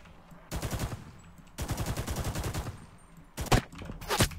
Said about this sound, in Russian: Ой, хороший пулемет.